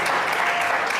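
A studio audience on a Pakistani entertainment show claps together in a brief, dense burst of applause, loud and close with no voices over it.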